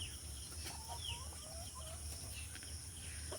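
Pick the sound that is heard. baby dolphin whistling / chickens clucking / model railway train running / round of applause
chickens clucking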